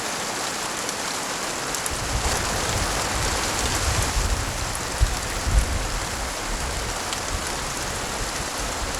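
Rain pouring steadily in a film scene, a dense hiss of falling water with low rumbling swells and a few heavier thuds, alone without voices.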